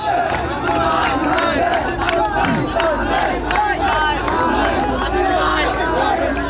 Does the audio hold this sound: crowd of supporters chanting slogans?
yes